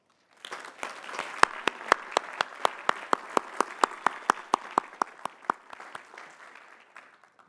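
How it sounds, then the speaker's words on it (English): Hearty applause from a commencement audience honoring doctoral graduates at a hooding ceremony, dense sustained clapping with sharp individual claps standing out, rising quickly, holding steady for several seconds, then tapering off. "applause."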